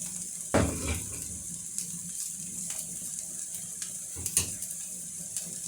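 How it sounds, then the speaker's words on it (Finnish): Pasta boils in a pot of water on the stove for a zucchini pasta dish, with a soft steady bubbling close by and a couple of brief clunks from a ladle against the pot. "Pasta kiehuu."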